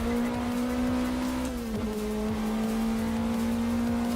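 Caterham 7 420R in the Assetto Corsa racing sim, its engine holding a loud, steady drone near constant revs with a small dip and recovery midway, alone without talk.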